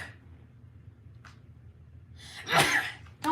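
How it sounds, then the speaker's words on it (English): A single sharp sneeze bursts out near the end after a quiet gasp-like intake, followed by a brief breathy sound, close and loud against a quiet room. "I'm about to sneeze"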